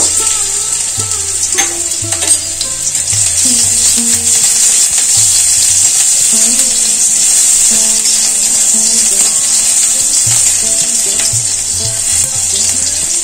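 Crushed garlic fries in hot mustard oil in a kadai, a loud, close, continuous sizzle with occasional scrapes and clinks of a stirring spoon, and no voices.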